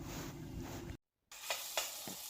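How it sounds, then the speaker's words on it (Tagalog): Garlic sautéing in a pan, a close crackling sizzle broken by a brief silent gap, then resuming with a few soft stirring scrapes. "just saute the garlic"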